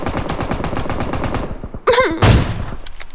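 Rapid bursts of automatic gunfire in the shooter game PUBG Mobile, a quick rattling string of loud shots that fades, then a sharp blast and a few scattered later shots.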